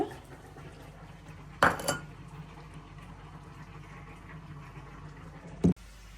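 A metal spoon clanks twice against a pot of simmering gourd shoots with radish, potato and beans, with a quiet bubbling hiss between the knocks.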